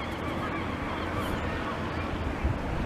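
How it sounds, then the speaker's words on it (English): Seagulls squawk over a loud, rushing wind on the Blackpool seafront at high tide, constant blustery noise filling the whole clip. "You can hear the friendly seagulls over the wind."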